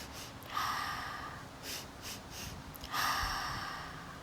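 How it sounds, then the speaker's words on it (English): Deep breathing during a yoga session, with a few close, airy inhales and exhales through the nose, one strong breath near the start and a longer one toward the end, alone with no talk. "Inhale."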